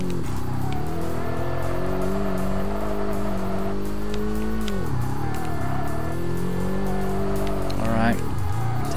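Race car engine from the video game Kaido Racer 2 drones steadily with shifting revs, dipping and climbing twice as the car slows and accelerates, a brief tire squeal near the end, while someone talks over it throughout.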